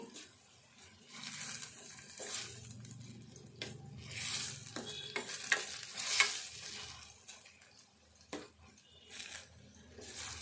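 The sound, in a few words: onion egg masala with ginger garlic paste frying and stirred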